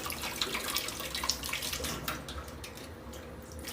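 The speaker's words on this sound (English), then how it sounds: "So I'm gonna rinse my okra." Okra being rinsed under a running kitchen tap, a steady splashing gush of water that eases off toward the end, heard close and alone.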